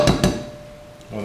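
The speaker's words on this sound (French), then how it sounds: "En attendant, on va casser nos 4 œufs" Two sharp taps of eggs cracked against a dish edge while making a quiche, close and crisp, followed by a quiet pause and a soft shuffle at the end.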